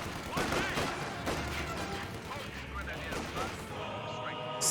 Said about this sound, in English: MG42 firing away against the Comm Engineers.